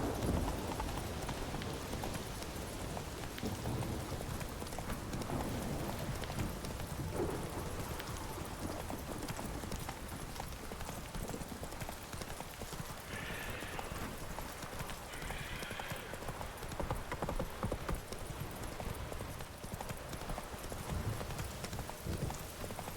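Roach, Geralt's horse in The Witcher 3: Wild Hunt Blood and Wine, trots with rhythmic clip-clopping hooves, steady and close throughout, over ambient game sound.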